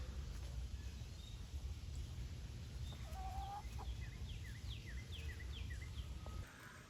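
Backyard chickens cluck and chirp in short, scattered calls over a low, rumbling outdoor background, fairly faint and at some distance.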